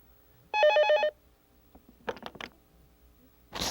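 An old telephone in 1994 Korea rings for a call from Switzerland: a single loud, close electronic trill burst of about half a second, followed by clatter and handling noise as the receiver is picked up.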